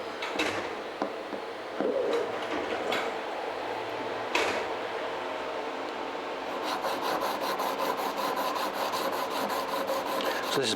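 Steel blade rubbed back and forth on a fine 1000-grit sharpening stone with light pressure, a soft continuous rasping scrape with a few brief knocks, close and fairly quiet, no talking.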